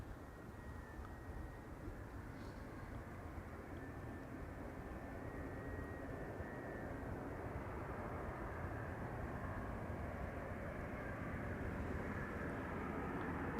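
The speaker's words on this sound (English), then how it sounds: "A380." An Airbus A380 airliner arriving at Amsterdam Schiphol gives a steady, broad engine roar that builds slightly and holds at a distance without a break for the whole stretch.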